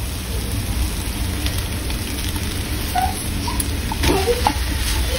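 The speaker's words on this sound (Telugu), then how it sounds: "ఈ పాస్తాని వేసుకొని మనం ఒక జెంటిల్ మిక్స్ ఇవ్వాలి" Cooked pasta being gently stirred together with egg in a hot pan for a street-style egg pasta, giving a steady soft sizzle with a few scraping stir sounds near the end.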